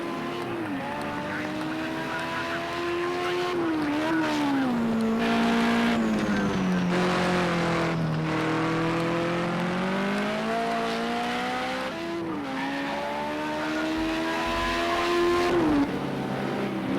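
Group 5 race cars, including a Datsun, roar around the track in Project Cars 2, one engine rising and falling through gear changes up close while others whine behind, with tire squeal and occasional commentary low underneath.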